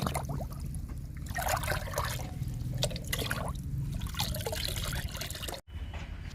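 Liquid fertilizer mix is poured into five litres of water in a ten-litre bucket, making soft, quiet trickling and splashing that continues throughout and cuts out briefly near the end.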